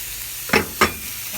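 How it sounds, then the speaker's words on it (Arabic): Meat searing in a little very hot oil in a pan, a steady hiss broken by two brief louder sizzle bursts as the pieces are stirred, no talking. "زين، اظل احمس بيه هذا اللحم، احمسه بدون اي بصل بدون اي بهارات"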